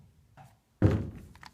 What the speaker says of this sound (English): there's a dog banging at the door